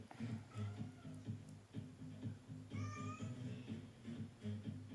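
A domestic cat gives a few faint meows, one clearer rising call in the middle, over a steady low hum in the background.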